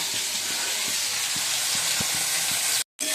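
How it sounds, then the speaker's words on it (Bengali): Amudi fish sizzles in hot oil in a home kitchen pan, a steady close hiss with soft intermittent pops and bubbling thumps, cut by a brief moment of silence near the end. "মাছ ভাজা বসিয়ে দিয়েছি"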